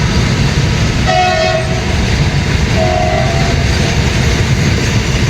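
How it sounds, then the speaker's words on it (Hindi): An empty freight train rolls past Sewa Nagar station on the Delhi Ring Railway with a loud continuous rumble and rail clatter, while two short horn toots sound a couple of seconds apart. "खाली मालगाड़ी जा रही है"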